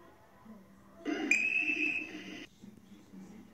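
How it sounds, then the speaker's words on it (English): A single shrill railway guard's whistle blast, held for over a second, sounds clearly above a quiet background with faint murmuring before and after. "the guard blew his whistle"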